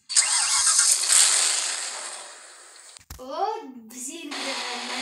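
A Toyota car engine is started, giving a few seconds of loud whirring cranking that cuts off, followed by a lower, wavering engine-like tone, with a voice in the background.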